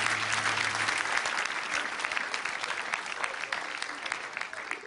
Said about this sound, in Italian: Cacio, un applauso, grazie.